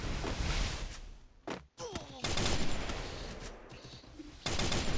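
Gunfire in a shooter video game, including a Desert Eagle, comes as bursts of rapid shots that break for a moment around the middle and then resume loud and dense, with no talking over them.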